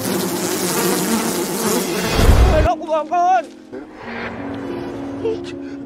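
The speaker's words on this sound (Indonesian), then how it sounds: "tidak sengaja menabrak sarang tawon." Dense buzzing from a swarm of wasps at a nest fills the first couple of seconds, then gives way to a voice making wobbly, warbling sounds.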